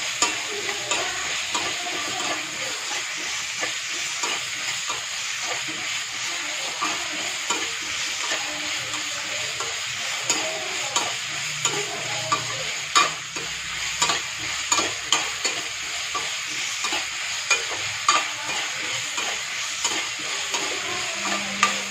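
Chopped chow chow (chayote) sautéing in a pan, a steady close sizzle with frequent scraping stirs of a spoon against the pan, continuous and moderately loud with no talk.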